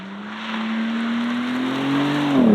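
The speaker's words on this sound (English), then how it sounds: "So second gear, give it some throttle." 2023 BMW M4 Competition with a titanium exhaust accelerating hard in second gear, a loud close engine note climbing steadily in pitch before a sudden drop at the end.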